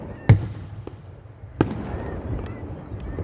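July 4th fireworks in Cheboygan, heard as two sharp distant booms about a second apart, with faint crackling and crowd murmur in between.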